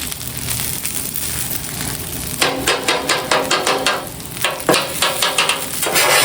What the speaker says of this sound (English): Kind of like an omelet in a way, but I'll chop it up